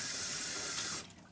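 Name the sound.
tap water running while washing hands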